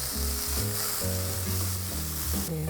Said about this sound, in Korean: 양파가 볶아졌으면 당근도 넣어서 이렇게 볶고